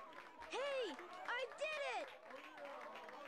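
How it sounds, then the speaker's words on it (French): Townspeople applauding and cheering in Sonic Adventure DX on PC, a busy crowd sound with rising synthesized voice-like swoops layered over steady clapping, fairly loud and continuous throughout. "on se fait applaudir par les habitants de la ville"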